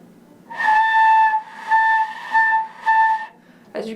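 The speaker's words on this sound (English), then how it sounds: "Also practice rolling the flute in and out and see where you get your best tone." A lone flute head joint gives three sustained, breathy tones, each wavering a little as the embouchure rolls in and out, with short gaps between them and a brief rustle at the end.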